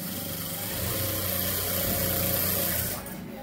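A sewing machine stitches piping onto a trouser cross pocket, running over the flap; a brief, steady, fairly loud mechanical whir that continues without a break.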